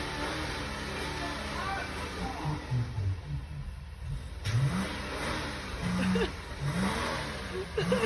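A Subaru engine running on diesel fuel, revving and labouring in uneven surges with rough rising pitch, fairly close, while people talk over it.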